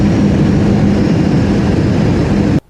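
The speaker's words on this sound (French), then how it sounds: "6 heures d'avion." Inside an airplane on a six-hour flight, a loud, steady low engine drone fills the cabin without a break, then cuts off abruptly at the end.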